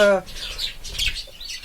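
Parakeets in an aviary give sharp squawks and chirps at close range, a busy overlapping chatter with a short tonal call at the start.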